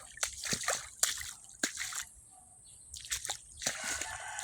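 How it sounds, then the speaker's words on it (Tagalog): Water trickling and sloshing through a drainage channel, faint and uneven, with soft splashes and drips from close by and a few quiet gaps. "Diyan, dumadaan din yung tubig dyan."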